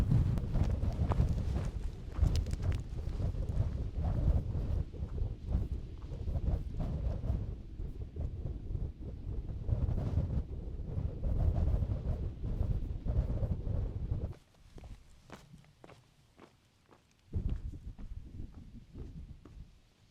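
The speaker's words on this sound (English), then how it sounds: "as I get lower down, this wind will drop" Gusty wind buffets the microphone on an evening descent of a Lake District mountain hike, loud and roaring for most of the time, easing briefly near the end before rising again.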